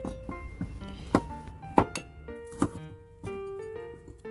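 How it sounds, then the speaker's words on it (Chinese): A knife slices fresh shiitake mushrooms on a cutting board in a home kitchen, several soft, separate chops landing at an irregular pace, close and fairly quiet, with faint background music between strokes. "新鲜香菇切片"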